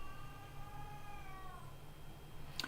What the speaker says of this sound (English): That is a spooky cat.